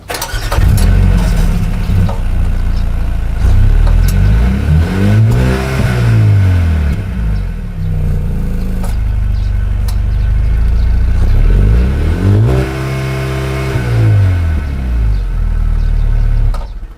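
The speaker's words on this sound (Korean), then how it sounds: "이 정차 시의 배기음이 그렇게 아주 크진 않고요. 공회전 때 스포츠 플러스로 바꿔도 배기음은 거의 비슷합니다." A 2021 Mercedes-AMG A 35 4Matic with a 2-litre turbo petrol engine and seven-speed dual-clutch gearbox idles with a deep exhaust burble, then revs up and back down twice, loud and close.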